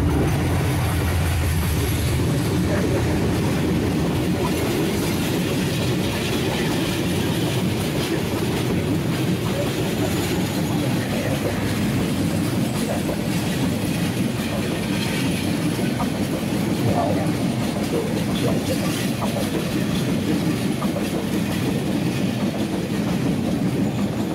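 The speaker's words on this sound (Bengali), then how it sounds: "3024 লোকোমোটিভ নিয়ে আসছে আন্তনগর বুড়িমারি এক্সপ্রেস।" The intercity Burimari Express, hauled by locomotive 3024, crosses at Raninagar railway station in Bangladesh, producing a loud, unbroken rumble and wheel clatter that stays close and steady for over twenty seconds.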